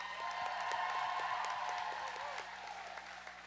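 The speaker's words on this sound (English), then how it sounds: "I want to give a big round of applause to our officials and volunteers on skates and off." A roller derby crowd at a bout between the Wreckers and Lilac City gives a round of applause with some cheering and whoops, moderately distant and echoing in a large hall, with a faint voice mixed in.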